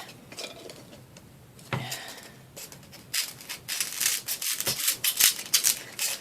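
Dollar Tree craft material is trimmed at the edge by hand, producing close, irregular rubbing and snipping sounds that grow busier toward the end.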